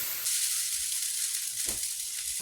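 Noodles hit a hot pan with garlic and burst into a sharp, steady sizzle, close and loud, with a couple of stirring clacks near the end.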